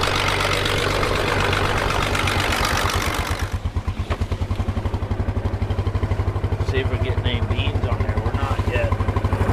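A motorcycle engine idling close by on a farm before a ride, a loud steady low throb that drops to a lumpy rhythmic putter midway, with people talking briefly over it.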